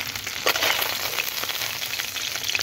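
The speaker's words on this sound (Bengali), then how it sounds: "একদম ছাকা তেলে একেবারে কড়া করে ভেজে নিয়েছি।" Puti fish deep-fry in hot oil, giving a continuous, fairly loud crackling sizzle with no voices.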